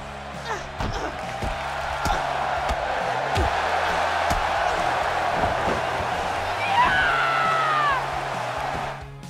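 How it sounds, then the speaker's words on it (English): Paige's rope hung knee lift in the WWE 2K17 wrestling video game: heavy body slams and thuds over a roaring arena crowd, with a rising high female scream cutting through near the end. "when performing her rope hung knee lift can be heard delivering her signature scream"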